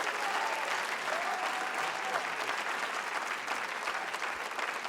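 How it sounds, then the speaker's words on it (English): An audience at a school spring instrumental concert applauds warmly. Dense, continuous clapping holds steady throughout, with a little crowd murmur and a faint cheer mixed in. "Let's give everybody a round of applause."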